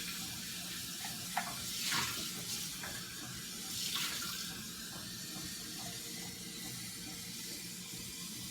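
Water runs steadily from a kitchen tap with a soft continuous hiss, faint and unbroken, while soup is being prepared; light clinks sound now and then.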